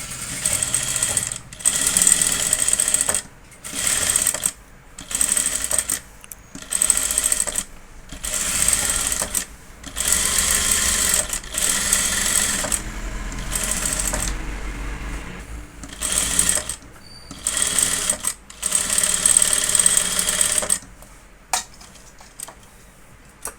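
Sewing machine stitching a water drop style blouse neck, running in repeated short bursts with brief pauses between them, close and fairly loud, with no talk.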